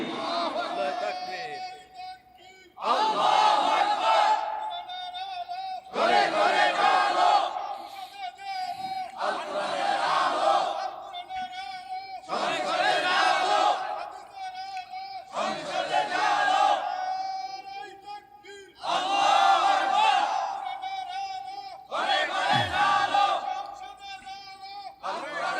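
A large crowd roars a chant of Allahu Akbar in repeated loud bursts, about eight rhythmic calls separated by short pauses, at a religious gathering.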